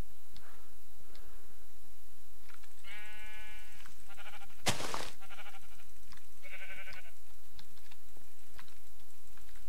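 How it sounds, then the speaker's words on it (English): Minecraft sheep give two separate bleats a few seconds apart over steady computer keyboard typing and a sharp burst of clicking between them, with no talking. "Let's see some more sheep."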